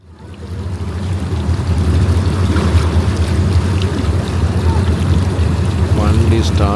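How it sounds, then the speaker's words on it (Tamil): A private tour boat's engine starts and runs on the water along the Al Bateen waterfront, a steady low rumble that rises from quiet and holds loud and close, with wind and water noise over it and a voice near the end. "வண்டி ஸ்டார்ட் ஆகிடுச்சு."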